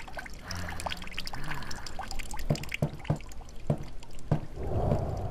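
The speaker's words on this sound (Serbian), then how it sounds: "A, mogu vodu uključiti." A tap runs in The Midnight Man horror game, a steady splashing flow with several sharp knocks and clunks, growing fuller toward the end.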